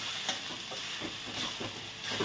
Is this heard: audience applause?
no